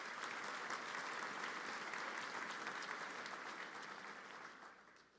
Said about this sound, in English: please give them a round of applause, too